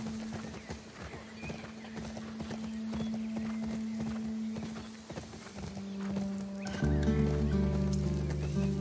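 A horse gallops in the video game The Last of Us Part II, its rapid clip-clop hoofbeats rolling steadily with an occasional whinny, and a sustained musical tone swells in near the end.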